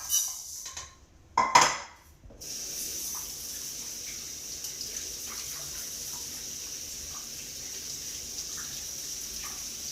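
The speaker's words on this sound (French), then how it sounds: "Je vais rincer mon riz." Rice is rinsed in a pot with water: a few clanks of metal and grains open, then a steady, even wash of running water and gentle swishing fills the rest, close and moderately loud.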